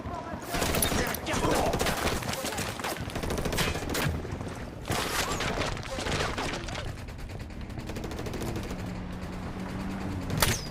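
Bursts of gunfire and sniper shots in the video game Ghost Recon Wildlands, repeated loud cracks and rattling volleys layered over mechanical clatter during a firefight at an enemy outpost.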